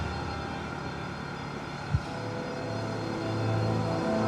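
A B-52 Stratofortress bomber at an air show demonstration fly-by produces a steady, distant engine drone that swells slightly toward the end, with no talk heard.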